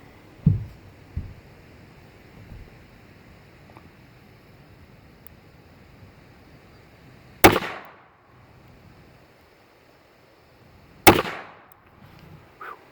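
Two sharp pistol gunshots from a small .380 North American Arms Guardian or a High Standard derringer crack out several seconds apart. Between them are faint clicks and handling noises outdoors.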